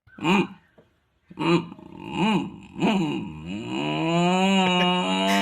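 A voice imitates a Yamaha RX 135 two-stroke motorcycle engine, with a few short revving bursts, then a sustained rising and falling engine drone.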